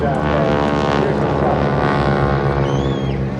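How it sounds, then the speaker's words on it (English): Aircraft powered by a big R985 radial engine passing at an air display, its loud droning whine filling the air nearby while an announcer's voice talks over it. "that whine that you hear there comes from the big R985 engine"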